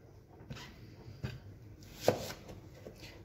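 Several sharp knife chops on a board at irregular intervals as an onion is cut into medium pieces, quiet and close, with soft rustling between strikes.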